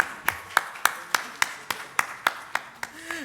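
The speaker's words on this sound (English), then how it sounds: "let's applaud the interpreters, please, because they have done a great job." Delegates at a closing session applaud the interpreters with sharp, evenly spaced claps, about eleven in steady rhythm over a few seconds, close and fairly clear, then tapering off.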